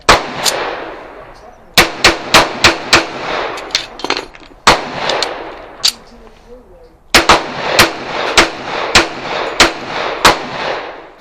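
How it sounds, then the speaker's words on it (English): M1911A1 .45 pistol fired outdoors in quick strings of loud sharp shots, about six or seven per string, separated by short pauses, each crack followed by a brief echo. "I was shooting a little low, but pretty much right on the center line, even when I was shifting over"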